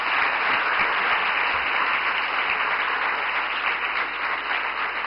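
A lecture audience applauds with loud, dense, continuous clapping that holds steady throughout with no talking over it.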